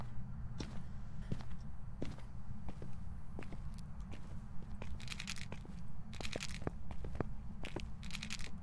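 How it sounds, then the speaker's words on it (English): In the horror game Phasmophobia, a ghost's footsteps sound as a steady series of sharp, clicking steps, moderately near, over a constant low rumble, with occasional brief crunchy bursts between them. "I heard footsteps."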